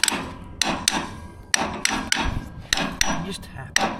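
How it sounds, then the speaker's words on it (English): A claw hammer taps on metal while fixing a corn reel pulley, a string of sharp, close, ringing strikes in an irregular rhythm, about a dozen hits with brief pauses between. "Using a claw hammer on metal, this is not acceptable."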